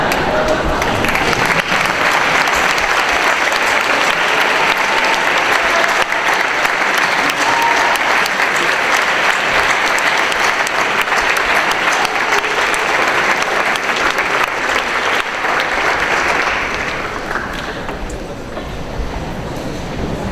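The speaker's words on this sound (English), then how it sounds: "aim some claps at them for supporting you" Loud, dense applause from students at a fall citation ceremony, clapping for their supporting parents and family, holding steady for a long stretch before tapering off near the end.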